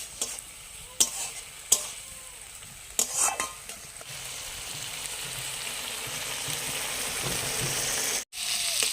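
Raw prawns frying in hot oil in a pan, with several sharp utensil clinks and stirring at first, then a steady loud crackling sizzle that keeps building, close up and with no voices.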